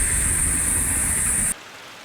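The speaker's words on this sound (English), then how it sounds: "So I'm going to measure out 4 gallons into the bucket" Water pours steadily into a bucket with a loud, hissing splash that stops abruptly after about a second and a half, leaving quiet.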